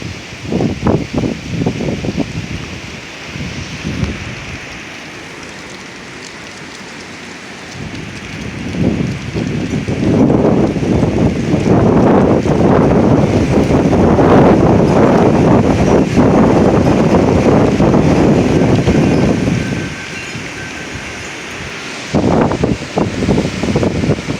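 Roaring windstorm gusts in northern Oklahoma, with choppy blasts at first, a lull, then a long sustained loud roar building and holding for about ten seconds before tapering, followed by more short gusts.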